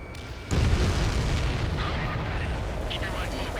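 A large boom as an enemy transport is destroyed in the Ace Combat 7 combat flight game, bursting in loud at the start and trailing into a sustained rumbling roar under ongoing jet and battle noise.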